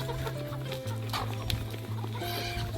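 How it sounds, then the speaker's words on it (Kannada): Native free-range village chickens on a farm cluck in short repeated bursts close to the microphone, while a steady hum drones underneath and faint rustling sounds around them. "ನಮ್ಮ ಆಡು ಭಾಷೆಯಲ್ಲಿ ನಾಟಿ ಕೋಳಿ ಅಂತೀವಿ"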